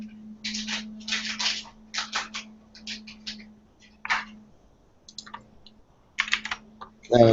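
Bursts of fast typing on a computer keyboard, crisp clattering keystrokes in uneven clusters separated by pauses, close to the mic over a steady low hum.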